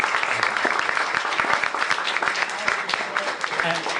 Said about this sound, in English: we want to definitely give our speaker a little round of applause